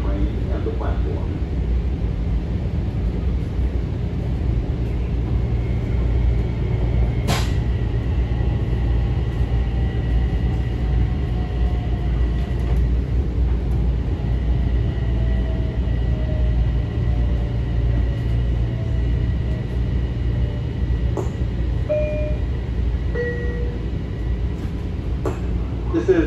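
An MTA Metro-North M7A electric train on a Harlem Line local run from Grand Central rumbles steadily from inside the car, with low motor drone, whining tones and occasional sharp clicks, and announcements or voices over it.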